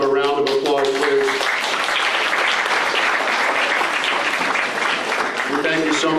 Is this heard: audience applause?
yes